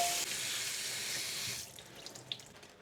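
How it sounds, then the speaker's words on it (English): Water from a kitchen tap runs steadily into a pot being rinsed for about a second and a half, then cuts off and leaves faint drips and small clinks. "I will just rinse this pot"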